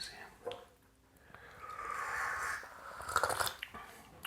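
First rinse of a 1999 basket-aged loose-leaf ripe pu-erh tea being sipped: a soft, drawn-out slurp amid faint mouth sounds and light clinks in a quiet room.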